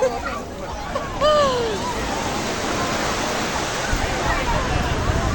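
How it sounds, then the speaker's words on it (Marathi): Sea waves wash in at Juhu beach in Mumbai, a steady broad roar of surf with people chattering nearby and a few shrill calls early on. "समुद्र आहे हवेमुळं लाटा बाहेर पाडून"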